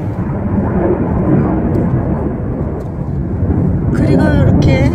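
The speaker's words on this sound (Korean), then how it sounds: "또 비행기가 지나갑니다." An airplane passes overhead above a flower wholesale market, a loud continuous low rumble filling the whole clip, with a voice speaking over it toward the end.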